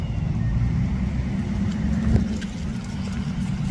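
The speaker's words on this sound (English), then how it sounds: "His car is literally on still." A parked police car left with its engine on idles in a steady, close, low rumble, with a faint brief knock partway through and no speech.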